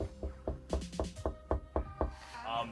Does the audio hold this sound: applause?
no